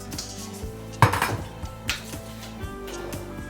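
A spoon clinks and scrapes against a bowl while raspberries are stirred into scone mixture, with one sharp knock and a few lighter taps over soft background noise.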